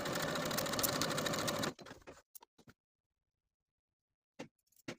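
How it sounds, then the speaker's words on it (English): A sewing machine stitches darts on a tank top in one steady, fast whirring run that stops abruptly, followed by a few scattered light clicks and handling sounds, close and without talk. "Then I'll sew from the outer edge to the point"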